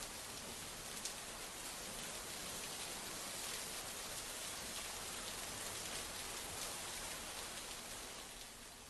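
Steady, dense rain pours down without pause during heavy monsoon downpours and flooding in Nagpur, a constant even hiss at moderate distance with no voices.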